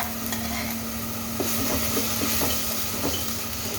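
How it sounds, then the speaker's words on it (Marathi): Onion, garlic and ginger paste dropped into hot oil for pav bhaji, a steady sizzling hiss with occasional stirring scrapes and small crackles, close and continuous, no voices. "आता गरम गरम तेलामध्ये पहा टाकायचं आहे आपल्याला कांद्याची पेस्ट कांदा लसूण अद्रक"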